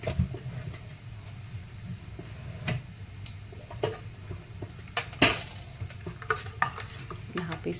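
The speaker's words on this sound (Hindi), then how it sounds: "सारी चीज़ों को मिक्स कर लीजिए।" Spoon stirring amla panna ingredients with chaat masala and salt in a dish, giving soft, close scraping and swirling with a few sharp metallic clinks, mostly alone without talk.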